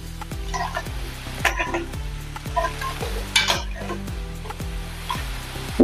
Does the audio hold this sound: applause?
no